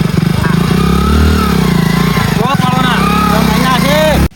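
Motorcycle engine running steadily, loud and close, with a throaty drone that rises and shifts pitch near the end before cutting off abruptly, under people talking.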